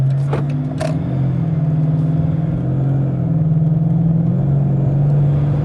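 A car's engine drones steadily as it accelerates toward 40 mph for a brake test, a low sustained hum with a couple of brief knocks near the start.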